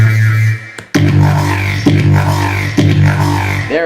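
Bass guitar processed with Melodyne plays a short phrase of several loud, close plucked notes with deep sustained tones, starting after a brief sound and a pause.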